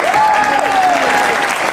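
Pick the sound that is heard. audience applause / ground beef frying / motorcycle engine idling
audience applause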